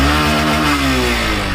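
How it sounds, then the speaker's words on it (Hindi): Honda SP125 motorcycle with a BS6 engine and iridium spark plug, exhaust note loud and close as the engine revs, a continuous buzzing drone that shifts slightly in pitch. "ये इसका एग्जॉस्ट नोट"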